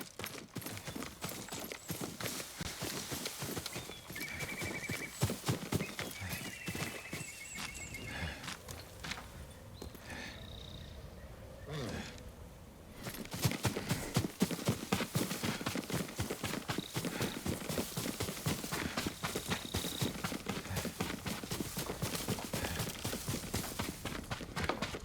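Horse hooves clip-clopping steadily in the video game Ghost of Tsushima, a dense rhythmic clatter that briefly thins out midway, with a horse whinnying in the background.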